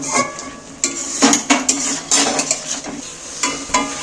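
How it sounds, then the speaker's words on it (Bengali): Fried potatoes being stirred into spice masala in a pan for a chicken dish, with repeated clinks and scrapes of a utensil against the pan and a faint sizzle underneath, close by and with no talk. "এইবার আমার ভেজে রাখা আলুগুলো তুলে দিচ্ছি এইবার মশলার সাথে"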